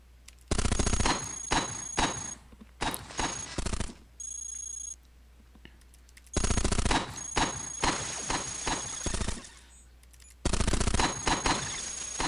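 Bursts of rapid synthetic gunfire from the robot roguelike Cogmind come in several loud, dense volleys separated by short pauses, with a brief electronic tone in one gap and no voices.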